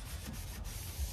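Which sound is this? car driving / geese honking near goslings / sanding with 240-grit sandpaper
sanding with 240-grit sandpaper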